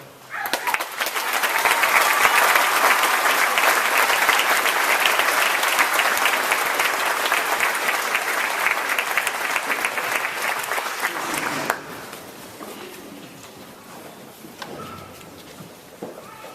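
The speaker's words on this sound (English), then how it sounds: "Please hold your applause to all 5 seniors who are standing." Loud, dense crowd applause at a 2014 graduation ceremony honoring the senior class, sustained for about ten seconds and then cutting off sharply to quieter room noise with faint scattered sounds.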